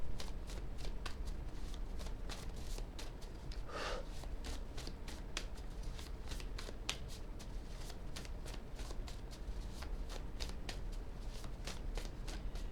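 Oracle cards are shuffled by hand in a quick, continuous patter of soft riffling clicks that carries on steadily for the whole stretch, close and fairly quiet, with no speech.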